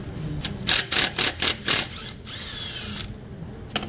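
Power tool spinning a 13 mm socket onto a bolt while replacing the alternator on a Jeep Wrangler, a close series of short whirring bursts followed by a steadier run, with no talking.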